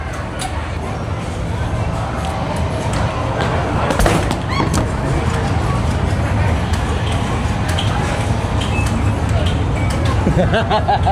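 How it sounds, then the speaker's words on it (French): Explosion sound effects from an arcade game in a busy US shopping mall play continuously and loudly under steady crowd noise and people talking nearby. "C'est un jeu d'explosion."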